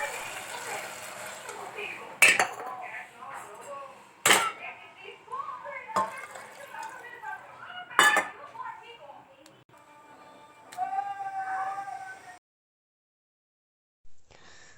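Evening tea dishes, forks and glasses are washed by hand. Sharp clinks and clatters come every few seconds over quiet rinsing, then a brief silence near the end.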